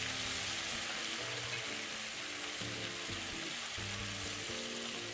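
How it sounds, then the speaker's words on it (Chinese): Spice residue fries in hot oil in a pan while being stirred quickly with a pair of chopsticks, giving a steady, moderately quiet sizzle with low background tones underneath. "将香料渣直接放入油炸。 香料渣完全加入后，再用双筷子做快速搅拌"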